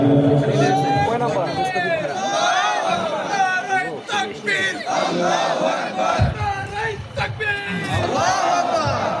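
A crowd at a Bangla Islamic ghazal gathering chants takbir, shouting Allahu Akbar together. The loud, near, rhythmic massed voices rise and fall in repeated waves and fill the whole stretch.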